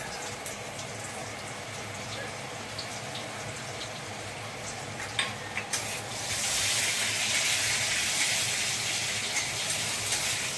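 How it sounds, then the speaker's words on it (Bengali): Small garlic pieces dropped into hot oil: a steady broadband sizzle that swells sharply partway through and then holds as a loud, continuous hiss. "রসুন ছোটোটা তেলের মধ্যে দিলাম।"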